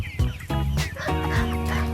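Chickens cluck repeatedly at close range in a busy outdoor setting. Harmonic calls overlap with background noise, and a faint voice can be heard briefly.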